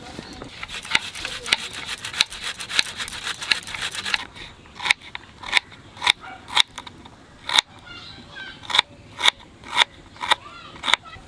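Ginger and garlic rubbed against a grater in a run of quick rasping strokes, then slower, evenly spaced scrapes with short pauses between them, close and clear.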